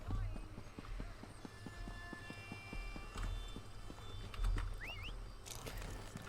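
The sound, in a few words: horse hooves in town, Elder Scrolls Online video game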